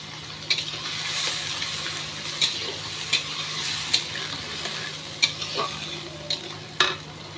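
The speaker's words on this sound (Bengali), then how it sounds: "খুব ভালো করে কষিয়ে নেব।" Masala paste with Kashmiri chili powder frying in a pan for a vegetarian soybean dish, giving a steady close sizzle broken by sharp scrapes and clicks of a spoon stirring at irregular intervals, with no talk.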